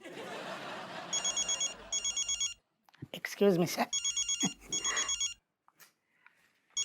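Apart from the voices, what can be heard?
telephone ringing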